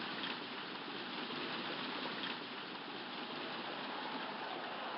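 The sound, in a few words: rain starting in Hardball baseball video game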